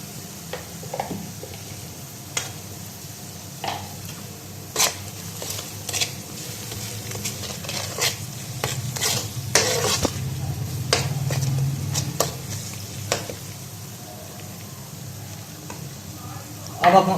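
Spices with turmeric and red chili powder roast in a pan for a potato and cauliflower curry, making a soft steady sizzle broken by frequent sharp scrapes and taps of a stirring spoon, close up, with no speech.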